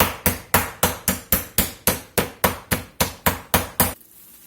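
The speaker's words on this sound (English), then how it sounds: "we're going to hammer this down pretty thin" A chicken breast under a sheet of plastic takes about fourteen evenly spaced, close, loud hammer blows in a steady rhythm, then the pounding stops.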